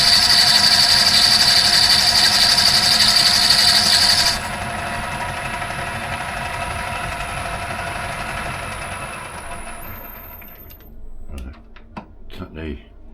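A metal lathe cutting with a new toolholder gives a steady, loud mechanical drone with a bright high whine. It drops to a lower level partway through and ends with a few sharp clicks and knocks.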